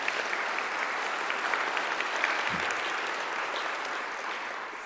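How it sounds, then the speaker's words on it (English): An audience at a morning plenary session on science, health and jobs breaks into sustained, even applause, a dense wash of many hands clapping that fades slightly toward the end. "For those who know Corey, let's give him a big round of applause"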